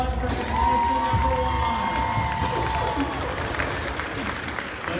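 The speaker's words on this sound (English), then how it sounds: "Big round of applause for contestant number" An audience applauds and cheers for a contestant at a bridal show, with a wash of clapping and shouts under a sustained tone and murmuring voices in a large, reverberant space.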